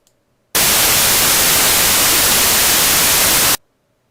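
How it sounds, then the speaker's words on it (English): A steady, loud hiss of white noise plays for about three seconds, starting and stopping abruptly, with silence on either side. "Gaussian white noise."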